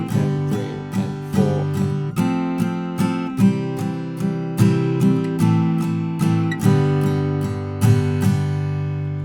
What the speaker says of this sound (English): but now we're strumming with all down strokes as opposed to down up.